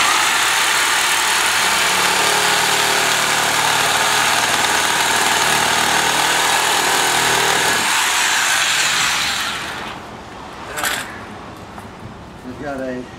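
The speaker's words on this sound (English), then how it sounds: "I'm going to cut the PVC with a sawzall so that I can gain access to it." A sawzall cuts through PVC drain pipe during a septic and drain repair with a loud, steady reciprocating buzz for about eight seconds. It then winds down and stops, followed by quieter handling sounds.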